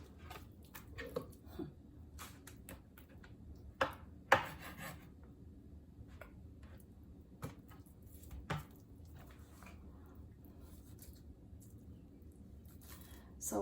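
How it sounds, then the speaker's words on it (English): A knife slices pork tenderloin into smaller pieces on a cutting board with soft, intermittent cuts and taps, quiet and close, with a few sharper knocks. "we need to slice this pork tenderloin in smaller pieces before we marinate"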